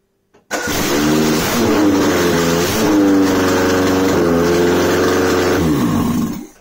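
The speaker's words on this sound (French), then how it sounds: "Vas-y, laisse-la démarrer." A Peugeot 205 engine cranks and catches, then settles into a loud, close, steady idle with a slight rise in revs midway before cutting off at the end.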